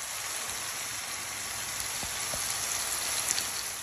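Shrimp frying in a pan of oil rendered from turkey skins, a steady bright sizzle and crackle with a few sharp pops, close and continuous.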